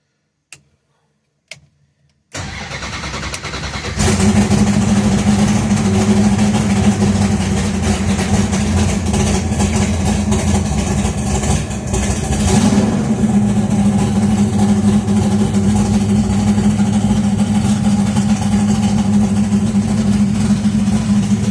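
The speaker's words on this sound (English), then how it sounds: "I'm actually going to just turn it on and go ahead and crank the motor and start it" A car engine fitted with an electrically controlled Accusump oil accumulator. A few faint clicks come first, then a brief crank, and the engine catches into a loud, steady, close idle that runs to the end.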